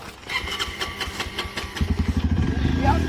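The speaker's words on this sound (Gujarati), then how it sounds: "તું બાઇક ચાલુ કર ફટોફટ" A motorcycle engine turns over and catches, then settles into a loud, rapid, pulsing idle close by, with a voice talking over the start.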